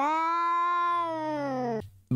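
A cat lets out one long, drawn-out meow, loud and close, then goes quiet before a short sound at the end.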